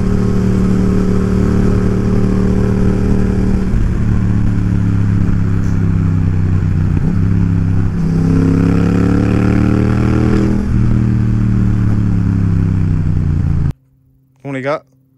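Loud Yamaha MT-07 motorcycle engine with a throaty Akrapovic aftermarket exhaust rumble, revving up and down in waves, then cutting out abruptly before a brief voice exclaims.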